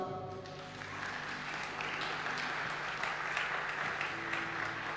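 Church congregation breaks into applause to acclaim Jesus during a teaching service, a building wash of many hands clapping, fairly distant and low in level, with a sustained tone running underneath.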